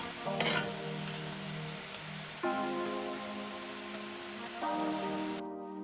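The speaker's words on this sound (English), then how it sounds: "add the mushrooms to the frying pan and cook until they reduce and most of the moisture is gone" Mushrooms cook in a frying pan while being stirred, giving a steady sizzle with scraping strokes and a few louder bursts, at a moderate distance, with no talking.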